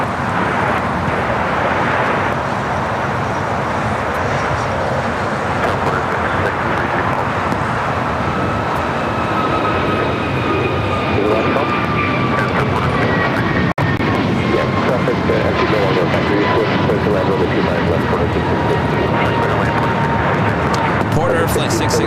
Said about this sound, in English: and the 25 left, set to take off.